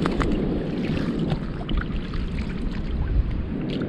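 Seashells collected on a South Carolina beach get rinsed with water, a steady rushing splash that stays close and fairly loud, with wind noise through the whole stretch and no talking.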